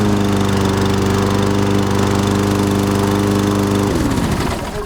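An electric-start walk-behind lawn mower engine runs loud and steady with a strong low hum, then its pitch drops and winds down near the end as it shuts off.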